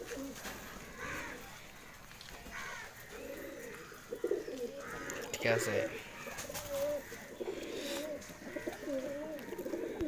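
Pigeons coo in repeated low, rolling phrases close by, while a person speaks briefly now and then beneath and between the calls.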